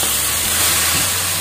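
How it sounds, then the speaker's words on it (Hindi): Chopped onions sizzle in hot oil and butter with cumin and whole garam masala, a steady, loud, close hiss filling the whole moment without any talk. "ये तेल गर्म हो गया अभी इसमें दे देना है बटर"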